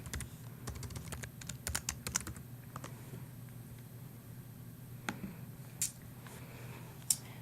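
Keys clatter on a computer keyboard as a login email and password are typed in, a quiet run of irregular clicks with brief pauses and a few sharper isolated taps near the end.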